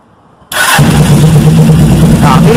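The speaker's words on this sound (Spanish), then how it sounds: "a ver Esteban cómo suena este bebé." Suzuki GS 500 street tracker motorcycle engine starts abruptly after a quiet moment, catching at once and settling into a loud, steady, close rumbling idle.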